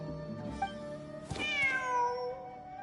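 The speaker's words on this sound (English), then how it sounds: "Wait, there it is! The cat!" A cat in the Genshin Impact game gives a drawn-out, wavering meow with a falling pitch, following soft ambient game tones, close and clear with no talking.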